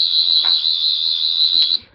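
Sonic screwdriver universal remote in FX mode emitting a loud, steady high-pitched electronic whine that holds for nearly two seconds and then cuts off abruptly, with faint handling clicks behind it.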